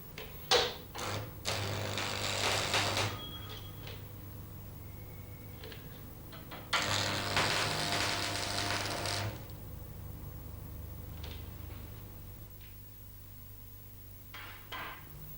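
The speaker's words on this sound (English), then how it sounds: "Tack weld one end as before." Arc welding while tacking steel plates: two stretches of steady crackling sizzle, a few seconds each, preceded by sharp taps of the electrode striking metal, then near-silence with faint clicks.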